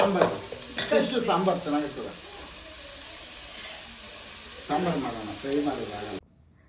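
Fish frying in a pan, a soft steady sizzle running under intermittent speech, with a person talking at the start and again near the end before it cuts off.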